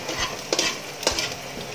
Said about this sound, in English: Then, put the onion. Wait until golden brown.